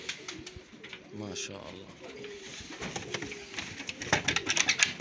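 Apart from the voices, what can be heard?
domestic pigeons cooing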